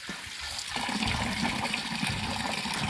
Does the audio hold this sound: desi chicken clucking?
no